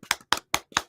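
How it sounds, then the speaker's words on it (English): Four sharp single hand claps spaced evenly apart, close and crisp in a quiet room, each a short dry slap with no other sound between them. "It was a clap."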